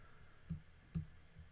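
Two sharp, faint clicks of a computer mouse about half a second apart, quiet and close, with a softer third tap trailing after.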